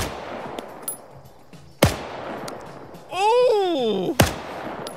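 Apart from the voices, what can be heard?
gunshots in the video game Arma 3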